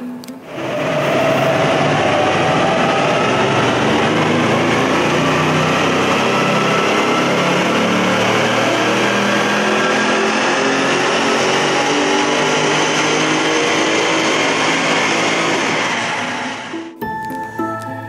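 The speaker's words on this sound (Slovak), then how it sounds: "teraz tu nastane rachot, ako keby v garáži vzlietala helikoptéra" Audi RS6 and RS7 engines running flat out on a dynamometer in a garage, a sustained loud roar with a droning whine, steady for about sixteen seconds before cutting off abruptly.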